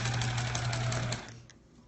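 A sewing machine runs steadily while piecing quilt blocks, a close continuous motor hum and needle whir that stops abruptly about two-thirds through, leaving quiet room tone.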